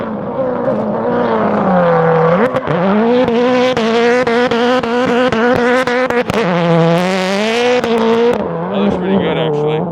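A Subaru STI gymkhana car swings through a slide with its engine revving hard and rising and falling in pitch, tires squealing, and voices talking over it nearby.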